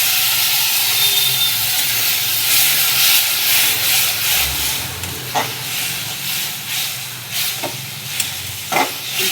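Spice masala for a fish curry sizzling loudly in a pan as water is poured in, a strong steamy hiss that settles into bubbling crackles with a few stirring scrapes.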